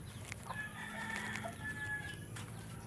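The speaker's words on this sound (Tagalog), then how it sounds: "Gamay pa itong manok" Young backyard chickens call faintly in a quiet yard, with one drawn-out crowing or clucking call over low background noise.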